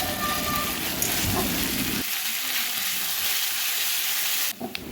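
Ginger-garlic paste sizzles with onion and chilli in a pan for a mushroom masala, a close frying crackle that drops to a softer simmer partway through, with faint stirring.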